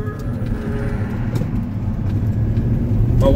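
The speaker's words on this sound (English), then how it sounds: "Too much traffic coming." Road traffic rolls past a driver waiting at a light during a food delivery shift, a steady low rumble of engines and tires that swells slightly toward the end.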